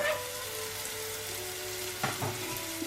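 Carrots and peppers stir-fry in a pan while cooking Chinese food, giving a soft, steady sizzle with a couple of brief louder scrapes or stirs near the end.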